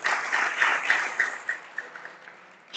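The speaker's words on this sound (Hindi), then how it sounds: "बहुत अच्छी बात है, तालियां बजाओ।" An audience at a political speech claps, starting as a full burst of applause that thins into scattered claps and fades over a few seconds.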